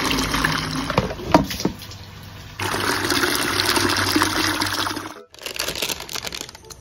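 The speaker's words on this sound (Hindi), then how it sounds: "पानी पूरा फिलअप कर देती हूँ" A container being filled with water while cooking, with a loud, steady rush of running water that changes pitch partway through, cuts off briefly and then resumes, with no talking.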